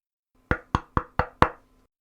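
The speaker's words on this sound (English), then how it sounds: "she heard a knock at the door." Someone knocks on a door at night, five firm, evenly spaced raps in quick succession, close and clear against near silence.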